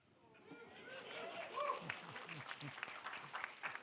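Applause from the audience at an annual game awards ceremony in New York, a moderate wash of clapping that builds and holds, with voices and cheering mixed underneath.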